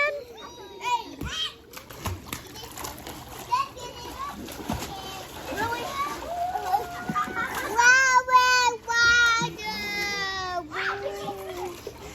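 A child splashes water in a swimming pool, with scattered splashes mixed among lively children's voices, shouts and squeals close by.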